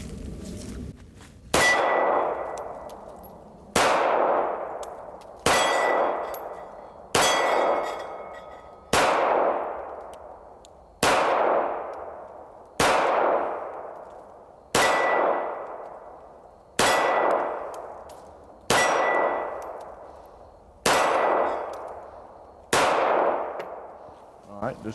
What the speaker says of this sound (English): All right, just shoot the Hellcat.